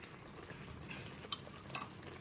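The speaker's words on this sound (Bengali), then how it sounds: "গ্যাসের ফ্লেমটা লোতে রেখে খুব ভালো মতো চিলি ফ্লেক্সটাও মিশিয়ে নিচ্ছি" Someone quietly stirs chili flakes into a simmering chicken gravy over a low gas flame, with soft scraping and gentle bubbling and a couple of small clinks.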